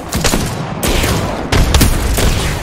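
Rapid bursts of video-game gunfire in a Thunderdome match, loud and close, with dense crackling shots in three clustered volleys.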